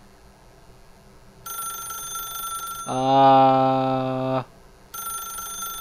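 A telephone ringing in The Stanley Parable game, a bright electronic trill that sounds in bursts, interrupted once by a loud buzzing tone, with a brief voice.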